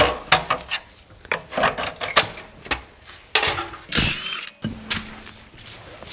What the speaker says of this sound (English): You can use a flat screwdriver or a little pry bar. Just get in there, pop it away.